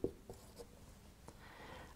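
Pen or pencil writing out a linear programming inequality by hand on paper, a few faint scratchy strokes and taps alone in a quiet room, with a soft continuous scribble toward the end.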